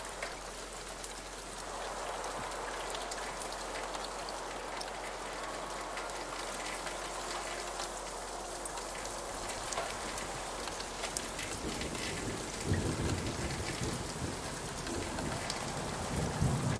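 Designed rain ambience for a sci-fi project, a continuous bright hiss of rainfall with dense droplet patter that fills out and grows slightly louder with added low-mid body near the end.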